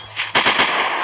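Sniper rifle fire in the mobile shooting game Sniper 3D, during a dinosaur zoo hunt: a quiet lead-in, then a loud, sharp crack followed by a few quick booming bursts with a rolling tail, no talk.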